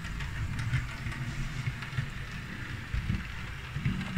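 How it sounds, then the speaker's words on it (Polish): A model locomotive runs along the inner loop of a model railway layout, giving a steady low rumble with soft, irregular clicking over the track joints, close by and unbroken by talk. "Sobie jedzie lokomotywa tutaj tym torem wewnętrznym"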